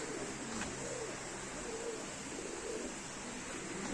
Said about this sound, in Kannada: ಪಾರಿವಾಳ